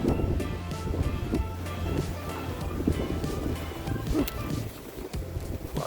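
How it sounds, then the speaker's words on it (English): Strong wind roars across an outdoor ski resort in near-whiteout conditions, a loud, constant broadband rush buffeting the microphone for the whole stretch. "Lots of wind today."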